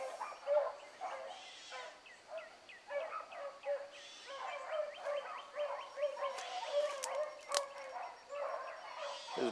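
Hound pups bark and bawl on a trail, a steady run of overlapping bays and chops at moderate distance, outdoors with no talking.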